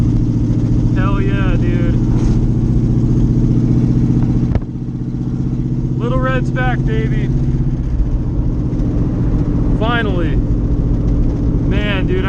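A C4 Corvette's engine drones steadily close by, nearly cuts out at a gear shift and then picks back up into third, while someone speaks excitedly over it in short bursts.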